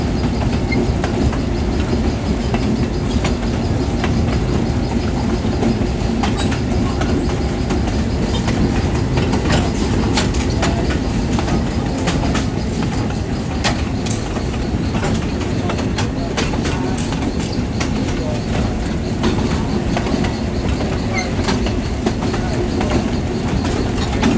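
A passenger train rolls along its rails through open countryside, heard from on board as a steady, continuous rumble with the faint click of wheels over rail joints.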